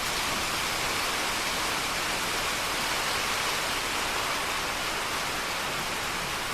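A steady, dense hiss of rain falling, constant and even throughout with no other sounds standing out.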